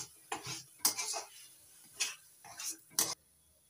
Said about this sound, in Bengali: এবার দিয়ে দিচ্ছি হাফ চামচ চিনি, নাড়াচাড়া করে ভালো করে মিশিয়ে নেব।